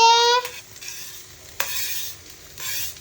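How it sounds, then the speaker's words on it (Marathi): Onion drops into a hot pan with a bright burst of sizzling, then stirring scrapes come and go over the continuing fry, heard up close. "आता कांदा टाकते."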